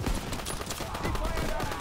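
Continuous battlefield gunfire from Call of Duty: WWII, a dense wash of rapid shots and machine-gun bursts with no gaps, loud and close, under faint shouted voices.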